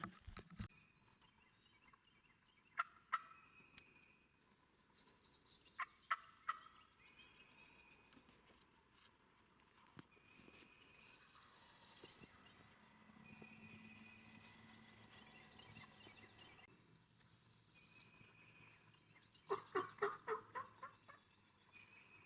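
Faint wild turkey gobbles carry from far off during spring turkey hunting season, with a couple of short bursts standing out above a quiet outdoor background.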